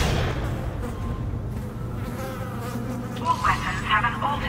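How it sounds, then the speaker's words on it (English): Insects buzz steadily around the player in Dead Space on Xbox One, a dense, continuous drone close by, with a few louder swells near the end. "I have a lot of buzzing bees all around me."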